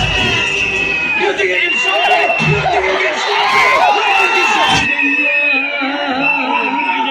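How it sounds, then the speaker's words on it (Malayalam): A packed cinema crowd at Puthettu Cinemas in Pala cheers and shouts over a trailer, a loud continuous roar of voices with whoops and screams that drops slightly after a few seconds but keeps going. "ബോട്ടിന്റെ ട്രെയിലറൊക്കെ ഇട്ടപ്പോ അതിനൊക്കെ കൈയടി കൂച്ച"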